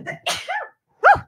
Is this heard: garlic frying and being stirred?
no